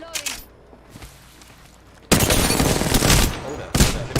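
Bursts of gunfire in the Apex Legends video game, loud and dense in the second half, with rapid shots after a quieter stretch of scattered pops.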